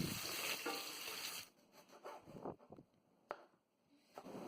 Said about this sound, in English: Now I am adding chopped onions. You have to make the onions brown.